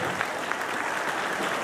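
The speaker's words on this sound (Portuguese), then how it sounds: "Então celebre a Deus, as palmas ao Senhor" A church congregation claps during an evening communion service, producing a dense, steady wash of applause that holds at an even level throughout.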